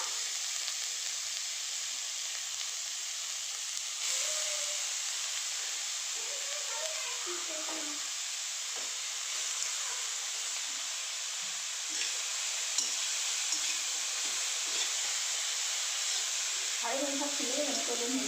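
Grated carrots fry and get stirred in a pan for gajar halwa, giving a steady soft sizzle and hiss with occasional light scraping strokes, fairly close and quiet, with no talk.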